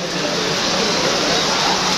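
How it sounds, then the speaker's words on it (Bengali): Heavy rain pours over Faridpur town in a dense, continuous, loud roar with no break and no voices. "ফরিদপুর শহরে প্রচণ্ড পরিমাণ বৃষ্টি হচ্ছে"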